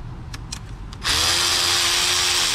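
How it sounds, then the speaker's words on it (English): A power tool, likely an impact driver or drill, runs loud and steady after a brief lead-in of clicks while unbolting a solenoid on a Jaguar XJ engine with electrical damage. "I'll just unbolt that solenoid."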